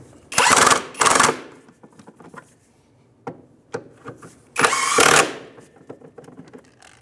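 Nuts are snugged onto a rear shock bracket on a 2011-2017 Honda Odyssey, with two loud buzzing bursts from a power tool, then scattered quiet clicks and taps, then a third buzzing burst close by.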